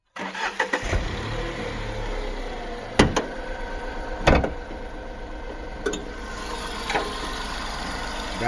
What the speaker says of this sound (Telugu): ఒకసారి ఇంజన్ నాయిస్ కూడా చూడండి.